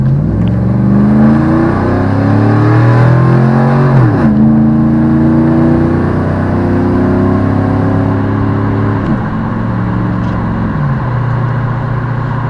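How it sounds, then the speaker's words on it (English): A Chevrolet truck engine revs up at about two-thirds throttle through the 3,000 to 4,000 RPM crossover range, its loud, steady drone rising in pitch in several swelling climbs, each followed by a dip as it shifts, with no voices. "That was maybe 2/3 throttle, so it's got a little bit of pep to it."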